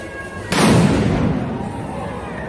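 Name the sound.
bomb explosion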